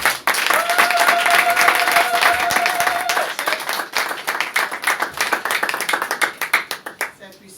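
A church congregation bursts into loud, close applause that carries on for several seconds. The clapping then thins into scattered, uneven claps as it fades out.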